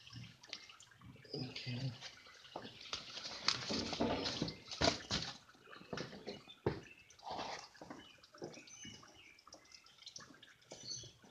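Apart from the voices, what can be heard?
engine oil draining from a 2012 Toyota Tundra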